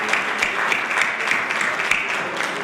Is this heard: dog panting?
no